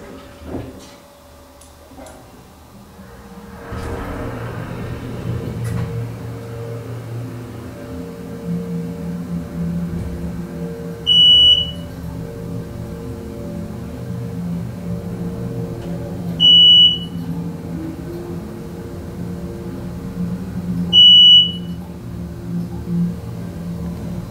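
Old Otis Series 1 hydraulic elevator running, a steady low mechanical hum and rumble with motor drone, starting after a few seconds, with three short high beeps or chimes spaced evenly through the ride.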